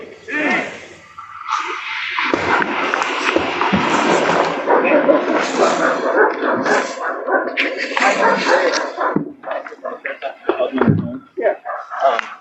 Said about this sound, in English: I'll let you get the dogs locked up